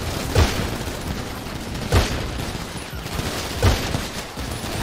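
Gunfire in the GTA 5 video game, three distinct bursts of shots spaced about 1.5 seconds apart over a busy background rumble.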